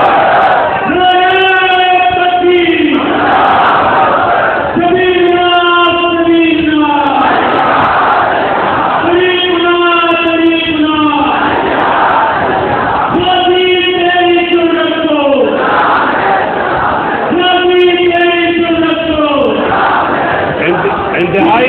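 At a religious gathering at Laal Masjid, an amplified voice chants a slogan and a large crowd roars back in reply. The loud call and response repeats steadily about every five seconds.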